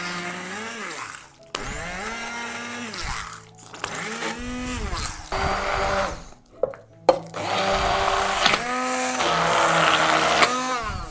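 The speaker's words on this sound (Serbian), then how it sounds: "I zatim ću sve usitniti štapnim mikserom." Stick blender pureeing fried chicken livers and fat for homemade pâté, a loud whirring motor run in several bursts with short pauses, its pitch sagging and rising as it bogs down in the thick mixture.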